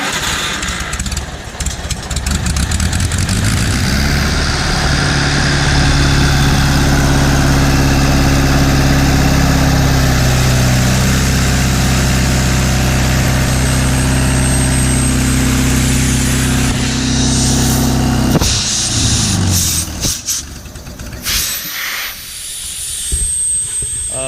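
An old air compressor engine, fed gas from a squeeze bottle and needing carburetor work, idles loudly and steadily with a hissing, droning tone, then sputters and surges near the end.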